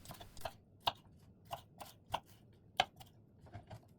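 A knife cuts a cored, deseeded bell pepper into small pieces on a board, giving a series of crisp, evenly spaced chops about every half second, close and fairly quiet.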